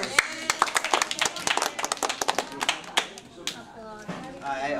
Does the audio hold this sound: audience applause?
yes